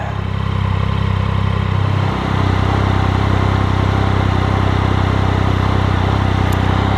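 A Triumph Speed Triple motorcycle engine idles steadily up close, a loud, even low rumble with a brief dip in level near the two-second mark, and no talking.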